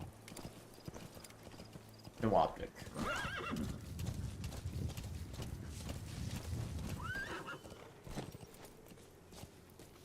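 A horse in the video game Metal Gear Solid V: The Phantom Pain clatters along in a rapid run of hoofbeats and lets out a loud whinny, with a brief voice speaking.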